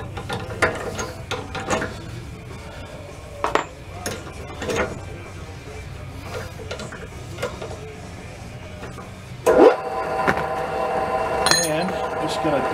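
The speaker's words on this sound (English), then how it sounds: "I'm just going to deburr the holes a little bit." Hand deburring tool cleaning up drilled holes in steel during mount fabrication, producing repeated short scraping clicks and ratcheting metallic bursts at an irregular rhythm, close and fairly loud, with a sharper clink near the end.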